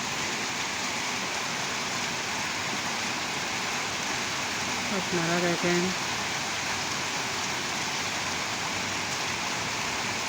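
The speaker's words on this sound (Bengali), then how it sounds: "একদম বর্ষার মতো বৃষ্টি পড়তেছে আজকে কয়দিন ধরে।" Heavy monsoon-like morning rain pours steadily as a dense, constant hiss, with a voice speaking briefly partway through.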